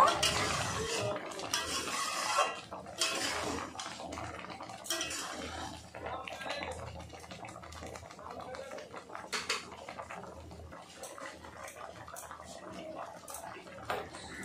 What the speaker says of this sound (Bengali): ভালো করে ফুটিয়ে নেব